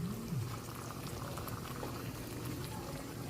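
A pot of beef nilaga, a Filipino beef stew, bubbles at a rolling boil close up, with a dense, steady gurgle and popping throughout.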